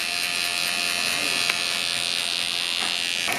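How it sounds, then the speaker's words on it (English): A Wahl Detailer trimmer cuts a bald taper at the nape of a client's neck, a loud, close, continuous electric buzz with a few small clicks as the blade meets the skin. "I'm going to give it a bald taper using my Wahl detailers"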